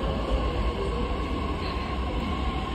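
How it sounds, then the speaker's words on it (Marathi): A metro train arriving at a station, heard as a steady, close rumble of wheels and carriage noise with a faint high squeal, continuous throughout with no talking. "मेट्रो आली आहे."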